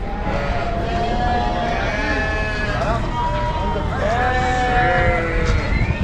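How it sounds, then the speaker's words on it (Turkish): Sheep bleat repeatedly at the Kadirli livestock market in Osmaniye, where sacrificial animals are being sold. Several nearby bleats overlap with people talking in the crowded pens. "Yine koyunlar var."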